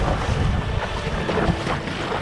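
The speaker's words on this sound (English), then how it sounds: "As we get a bit more wind here." Wind gusting over open sea, a loud, continuous rushing roar buffeting the microphone with the wash of water underneath; no one speaks.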